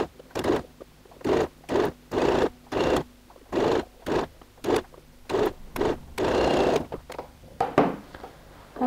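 Domestic sewing machine running a long stay stitch on bag fabric, about a dozen short whirring bursts separated by pauses, close and moderately loud, without speech.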